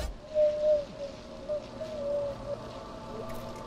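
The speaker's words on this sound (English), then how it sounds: "I've got an owl in my house." A soft, tonal hooting call from an owl inside a house, a few drawn-out even notes repeated over several seconds, fairly faint against a quiet indoor room hum.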